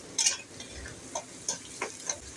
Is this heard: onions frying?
yes